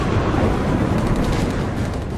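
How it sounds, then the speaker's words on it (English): Gunfire in the video game Sniper Elite III: Afrika, heard as a dense, loud, rumbling wash of shots and booms that fills the whole moment without a break. "As usual, there is sound of gunshots from each and every direction"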